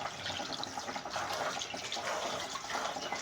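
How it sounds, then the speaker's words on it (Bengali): Pumpkin flowers are rinsed under a running tap, giving a steady, close splashing rush of water with no pauses, alone and without voices. "আমি ধুয়ে নিলাম কুমড়োর ফুলগুলো"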